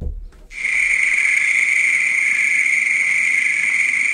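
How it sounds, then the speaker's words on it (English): A loud, steady, shrill cricket chirp buzzes continuously after a short quiet start, unbroken and close. "Was that crickets? Yeah, yeah."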